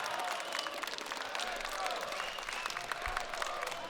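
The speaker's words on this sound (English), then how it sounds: "Might hear some clapping in the background." Crowd applause rising from a live audience at the StarLadder Budapest Major 2025 Counter-Strike tournament, a steady wash of clapping held fairly far back for the full stretch.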